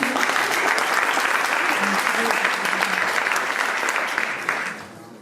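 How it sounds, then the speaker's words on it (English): An audience at a Sudanese stories podium talk claps steadily and loudly for a speaker being introduced, the applause dense and even before tapering off at the end. "Please, an applause for Mohammed Bari."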